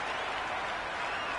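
A cricket crowd applauds a boundary four, a steady dense wash of clapping and crowd noise filling the whole short stretch, with no pauses.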